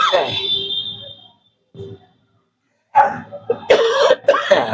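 A man coughs close to the microphone in a room in Delhi during a wall clock repair, a few harsh throat-clearing bursts broken by short silences, with talk mixed in.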